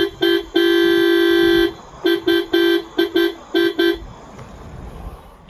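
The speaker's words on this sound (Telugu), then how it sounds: "సో ఇది డ్యూయల్ హారన్ సౌండ్ ఇది." Dual horn of a Maruti Suzuki Brezza car blares loud and close: one long sustained blast, then a quick series of short, sharp honks before it falls quiet.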